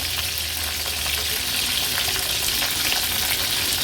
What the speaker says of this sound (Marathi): आता हे थोडे हलवून घेऊया आणि एक दोन ते तीन मिनिटासाठी व्यवस्थित हे आपल्याला तळून घ्यायचे